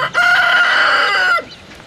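Petey, a rooster from a mystery chick batch thought to be a golden lace Wyandotte, crows once on a farm in fall: a loud, close, drawn-out call lasting just over a second, with no other sound around it.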